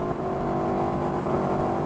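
An Aprilia RSV4 motorcycle engine revs steadily and loudly close by as it moves through the gears on a reverse-shift setup, a dense continuous mechanical roar with no talking.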